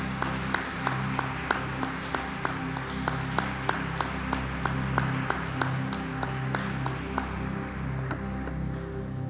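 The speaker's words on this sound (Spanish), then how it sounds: "Dele un fuerte aplauso al Rey de Reyes." A church congregation claps during a Sunday service with steady, evenly spaced rhythmic claps over a low sustained organ or keyboard pad, fairly soft and distant.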